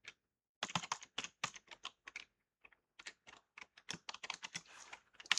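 Code being typed on a computer keyboard for a web page, quick bursts of close, crisp keystrokes separated by short pauses, growing busier toward the end, with no voices.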